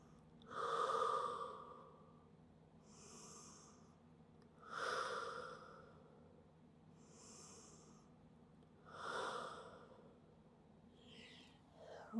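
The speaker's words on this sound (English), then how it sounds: "3 deep breaths." Slow, deep breaths taken while resting in child's pose during a bodyweight pilates push-up workout, three long airy inhale-exhale rounds, close and fairly quiet, with no talking over them.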